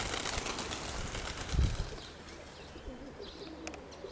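Pigeons coo low and soft in a dovecote with young squabs, with faint wing rustles and light background noise.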